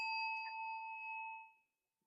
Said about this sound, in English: because here comes the bell.